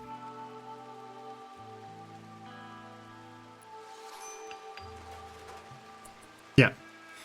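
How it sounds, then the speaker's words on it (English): Steady rain falling in RimWorld, an even hiss of drops under a layer of sustained musical tones, ending in one sharp loud hit. "just sitting in the rain"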